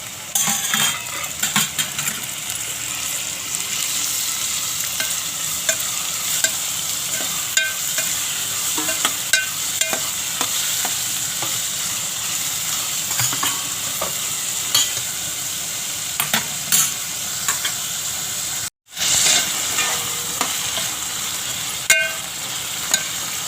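Prawns hit a pan of fried onion and sizzle steadily and loudly, with frequent small metallic clinks of a stirring spoon and one brief silent gap near the end.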